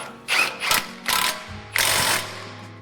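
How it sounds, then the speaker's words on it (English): Ratcheting wrench tightens 17 mm bolts on a Toyota Tacoma wheel hub during a 2005-onward hub replacement, four loud close bursts of rapid clicking separated by short pauses, with no talk. "I'm gonna go ahead and tighten those down with my wrench"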